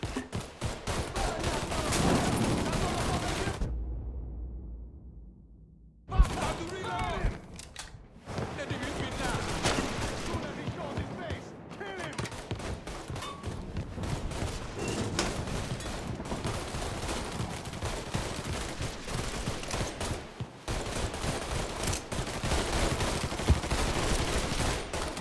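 Gunfire in the Mafia III video game on PC, sustained loud rapid bursts and fusillades with a brief lull, overlaid by shouting voices.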